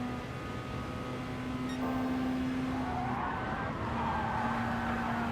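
Race car engine with steady droning tone and tire squeal through corners in the racing game GT Sport, a continuous loud synthetic engine note holding throughout with skidding texture rising midway.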